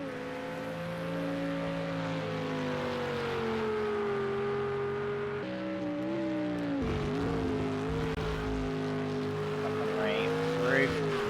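Race car engines of a Ferrari 488 and an Aston Martin in Project CARS 2 at Road America, a steady loud tonal drone that shifts pitch through gear changes and cornering, with a brief tire squeal near the end.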